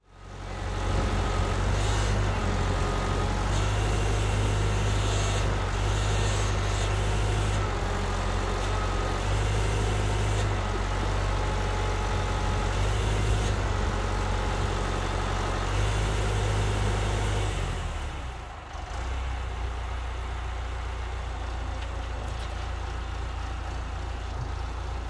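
A two-wheel drive backhoe's engine labors steadily as it pulls a Caterpillar D2 5J dozer up a steep driveway, a loud continuous low drone that dips briefly near the end before carrying on.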